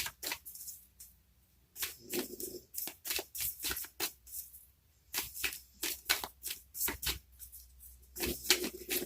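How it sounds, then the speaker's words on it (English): A large deck of tarot cards is shuffled at length: soft, close riffling and slapping bursts repeat in an irregular rhythm with short pauses, quiet overall and with no voices. "This is a long shuffle and a lot of cards."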